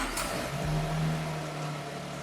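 Toyota Land Cruiser ZX 300 V8 engine, steady near car engine sound with a low hum and a brief rev early, continuous for a couple of seconds.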